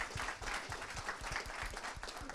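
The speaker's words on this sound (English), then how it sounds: "a big hand of applause for Mike's presentation and for Andrew's" Applause from a meetup audience after an identity-on-blockchain presentation, a dense burst of clapping from a moderately sized crowd, fairly quiet and steady over a couple of seconds.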